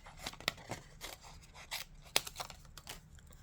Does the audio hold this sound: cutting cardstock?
yes